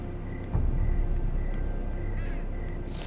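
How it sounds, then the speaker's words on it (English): Crows cawing in a Game of Thrones game scene, a few harsh caws scattered over a low ambient rumble, moderately distant and fairly quiet. "Ooh, birds."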